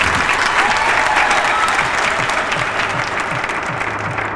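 A large crowd bursts into dense, sustained applause and cheering, loud and continuous from start to finish, slowly tapering slightly toward the end.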